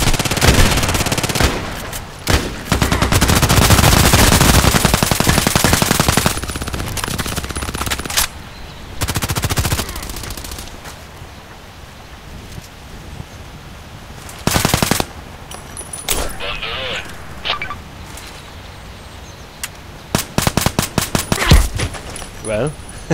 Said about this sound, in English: feels like shooting with a paintball gun and not with a real gun